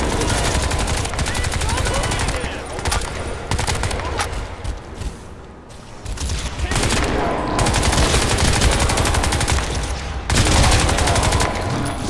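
Sustained automatic gunfire in the shooter game Crysis 2, a dense loud battle of rapid bursts that runs almost continuously, with a short lull in the middle before heavy firing resumes.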